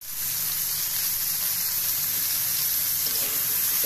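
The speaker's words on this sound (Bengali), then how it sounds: "আমি একটু আলু দিয়ে দিয়েছি, ভালো করে একটু ভেজে নিচ্ছি।" Potatoes frying in a pan for a tomato and egg dal, giving a steady, close hiss of sizzling oil that holds evenly throughout.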